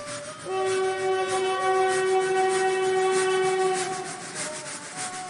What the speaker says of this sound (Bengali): পিছনে তীব্র গতিতে রাতের ট্রেন ছুটে আসছে।